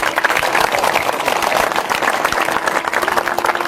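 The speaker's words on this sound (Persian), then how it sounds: "تشویق بفرمایید." An audience at a religious talk breaks into steady, vigorous applause, a dense crackle of many hands clapping close by and continuing evenly for several seconds, with a faint tone humming underneath.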